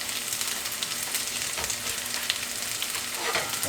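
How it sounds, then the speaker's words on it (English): A pancake frying in oil in a pan, with a dense, even sizzle that stays steady and close throughout, with no talking. "You just want to cook that to the golden brown"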